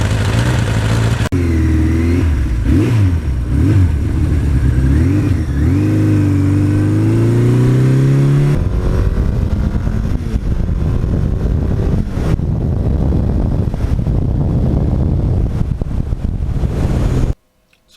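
A 1982 Suzuki GS1100E motorcycle engine revs loudly and close by, its pitch swinging up and down in repeated blips before settling into a steady, rougher roar; no one speaks.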